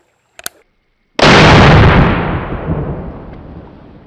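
Outdoor rifle shooting: a couple of sharp distant pops, then a single loud close gunshot with a long rolling echo that slowly fades.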